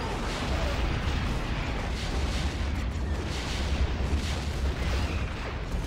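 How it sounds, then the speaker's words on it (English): Continuous heavy rumbling blasts from a bombing run in a war video game roll on without a break, loud and dense throughout the whole stretch. "Bombing run inbound."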